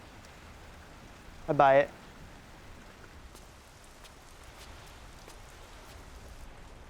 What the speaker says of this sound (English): It's raining in here too.